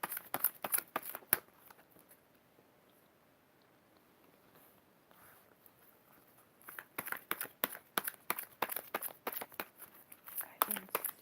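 Tarot cards being shuffled by hand in crisp, rapid bursts of riffling and snapping, with a quieter stretch of soft rustling in the middle before the brisk shuffling resumes, close and dry.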